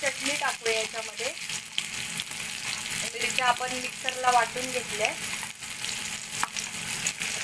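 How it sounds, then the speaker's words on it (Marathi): Chili chutney goes into hot oil with fried urad dal and peanuts, and a continuous crackling sizzle runs under someone talking throughout. "आता आपण ही मिरचीची चटणी टाकूया याच्यामध्ये."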